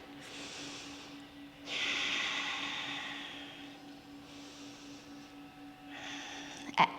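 A workout instructor takes slow, audible breaths during a guided session, long soft airy inhales and exhales with pauses between, fairly quiet and without talk, ending in a small clatter.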